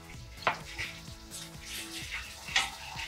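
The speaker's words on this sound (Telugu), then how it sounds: "అల్లం వెల్లుల్లి పేస్ట్ వేస్తున్నా" Ginger garlic paste hits onions frying in a pan, giving a soft sizzle with sharp metal clinks of a spoon against the pan. Low voices murmur faintly in the background.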